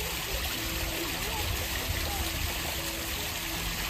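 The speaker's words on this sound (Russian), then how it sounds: "Нет, это не водопад, это фонтан." Steady broadband splashing of an outdoor water fountain at a hillside restaurant, a continuous close wash of falling water with faint voices in the background.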